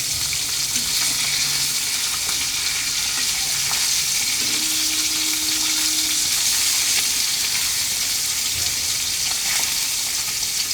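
Fish being lightly fried in hot oil in a pan, a loud, steady hiss of sizzling spread evenly throughout, close up and without speech.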